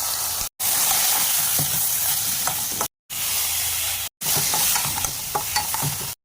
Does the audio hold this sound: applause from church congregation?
no